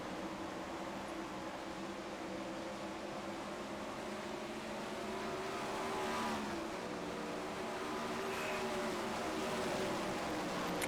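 Dirt race car engines in the iRacing sim at Knoxville Raceway, a World of Outlaws event, drone steadily with layered overlapping tones, loud and continuous throughout, rising slightly in intensity toward the end with no talk over them.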